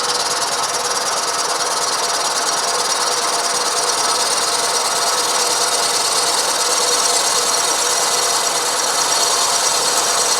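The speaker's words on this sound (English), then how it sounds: "Got a nice sharp slot drill here, so cutting it like butter really." A sharp slot drill cuts slowly through a workpiece as the machine is wound through by hand during a warranty repair. The result is a steady, loud hiss and whirr of cutting that stays even throughout with no talk.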